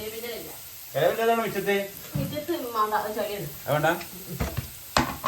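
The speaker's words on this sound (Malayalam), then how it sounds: "എണ്ണയ്ക്ക് കടുക് ഉലുവ പൊട്ടിക്കുക" Hot oil sizzles as mustard and fenugreek seeds crackle and pop in it, with sharper pops near the end, while a person talks over the cooking.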